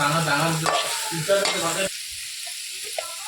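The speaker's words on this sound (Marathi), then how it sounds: "चांगलं असं मिक्स करून घ्यायचं आहे" A spoon stirs a prawn mixture frying in a pan, with scraping and a steady sizzle for a couple of seconds before the sound drops away to near quiet with faint clinks.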